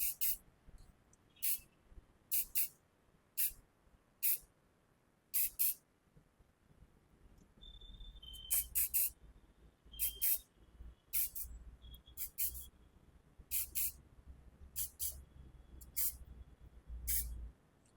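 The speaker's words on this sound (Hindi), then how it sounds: "इसे स्प्रे से नीट कर लेना एक एक को" Hairspray hisses in repeated short bursts while a messy bun party hairstyle is being set, each spritz sharp and close, with quiet pauses between and faint background noise.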